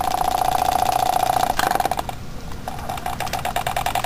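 A Jensen 25 model steam engine runs at about 880 RPM, a rapid mechanical chatter with a steady tonal whine that breaks off midway, then resumes more quietly.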